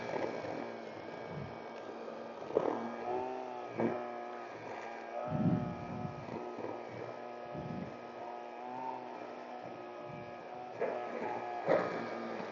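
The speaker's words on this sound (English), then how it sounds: "Been really enjoying this new Milwaukee 2nd gen trimmer as well." A Milwaukee 2nd gen string trimmer runs while a lawn is mowed, giving a steady, fairly quiet motor whine with harmonic overtones and brief swells and dips in pitch.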